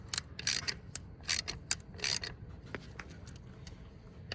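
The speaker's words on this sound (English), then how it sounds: "to be able to turn your bolt here, and it'll pull it right up out of that hole" A tool turns a bolt to pull the MDS solenoid out of a Dodge 5.7 Hemi V8 engine, making a few short ratcheting, grinding bursts close up. Quieter clicks trail off afterward, with no speech.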